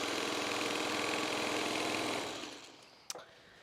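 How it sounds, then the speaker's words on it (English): A sewing machine hums steadily as it stitches a jelly roll quilt, running continuously up close before winding down and stopping, followed by a single sharp click. "So she continues to sew."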